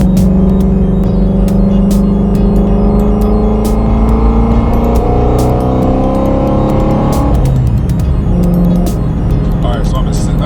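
A Ford Mustang GT350 on Toyo Proxes R888R tires cruises a paved highway in sixth gear, giving a constant loud cabin drone of tire roar and engine hum with slowly shifting tones and no pauses.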